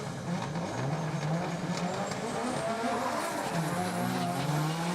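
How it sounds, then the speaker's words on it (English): Formula Drift Japan race cars, including the Cusco Racing GR86, drifting at Okuibuki Motorpark in a top 32 battle, engines roaring loud and continuous with tires squealing and skidding throughout. "number 770, Yoshitatsu Kaneda in the Cusco Racing GR86 is going to be going against number 46, Yasuhiro Takaki."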